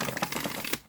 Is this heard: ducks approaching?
no